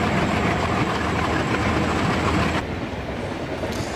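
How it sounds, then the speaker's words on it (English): A diesel freight train runs alongside in an Indian Railways simulator game, a loud continuous rumble and rolling clatter of wheels that drops slightly partway through. "So one more freight train just going on in front of our train."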